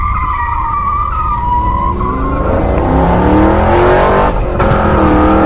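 An animated car in Free Fire skids and speeds away, loud tire squeal sliding in pitch over a revving engine that rises steadily for several seconds, with no voices.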